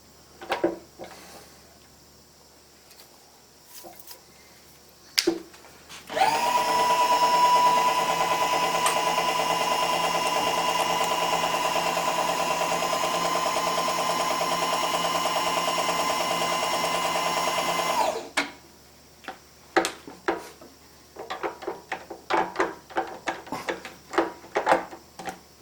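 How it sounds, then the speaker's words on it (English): A counterbore held in a 1/2 inch collet in a milling machine quill cuts holes for a wakeboard-to-ski rack conversion on a Sanger ski boat, giving a steady, loud whirring drone for about twelve seconds between quieter clicks and handling noises. "I've put a 1/2 inch collet in the quill, and I'm going to choke up like a son of a gun on this counterbore and hope it runs"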